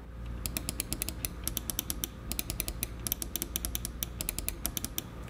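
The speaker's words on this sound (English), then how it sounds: "The top buttons provide a tactile click feel with nominal pressure." The top buttons of a Sharkoon Light2 200 gaming mouse are clicked repeatedly, producing crisp, tactile clicks in rapid irregular bursts, close up and fairly quiet, with no voices.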